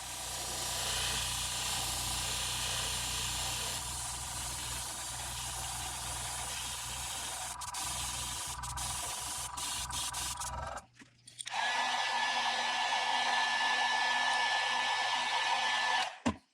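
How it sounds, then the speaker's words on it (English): Base coat paint is sprayed onto a crankbait lure, a steady loud airbrush hiss that halts briefly, then resumes with a changed compressor tone before cutting off. "first up we're going to spray our base coat."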